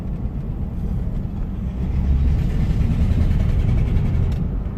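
A classic car's engine drones steadily and loudly in third gear while cruising, a continuous low rumble with road noise and no voices.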